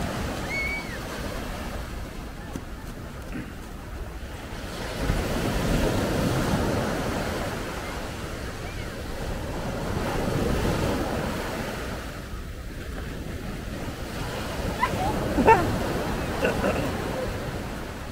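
Ocean surf washes up the beach at Coney Island in slow swelling surges, with steady wind rumble on the microphone and faint voices nearby.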